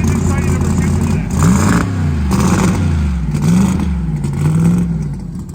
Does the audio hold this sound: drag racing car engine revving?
yes